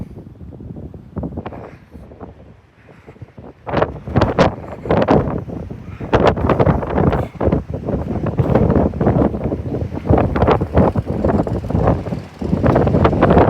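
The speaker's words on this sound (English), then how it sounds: "Winds are really ripping." Strong Hurricane Laura winds in Lake Charles roar as loud, continuous gusting buffets against the microphone, rising sharply after a quieter start and staying intense throughout.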